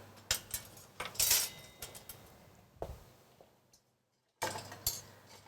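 A small spoon clinks against dishes in a home kitchen during baking, a handful of sharp bright taps and jangles in uneven bursts, then a brief silence before more clinking.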